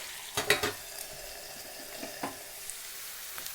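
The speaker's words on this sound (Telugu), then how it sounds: "ఇది ఇంకా మనకి పోపు అయితే వేగిపోయాయండి. ఉల్లి, ఈ పచ్చిమిరపకాయలు అన్నీను, కరివేపాకు అన్నీ వేగిపోయాయి కదా" Soft frying sizzle of an onion, green chilli and curry leaf tempering, with a few brief stirring scrapes near the start and middle, fairly quiet, no talking.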